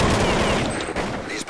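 Dense, sustained automatic gunfire in a competitive online shooter match, loud bursts rattling continuously with brief dips, a voice faintly mixed under the shots.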